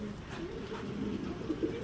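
Young racing pigeons, a 2023 pair, coo softly and continuously in low rolling calls, close by with no talk over them.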